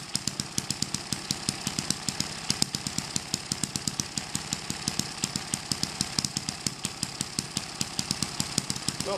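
Small engine with a shiny flywheel running steadily at about 2,000 RPM, a loud, rapid, even chugging with sharp repeated firing pulses that continue throughout without talk.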